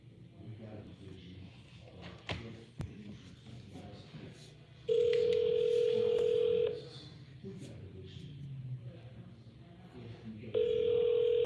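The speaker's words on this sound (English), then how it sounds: "Let's try to call Mary" On a phone call, a line tone sounds twice as long, steady buzzing beeps, each lasting a second or two, over quiet background noise and faint voices.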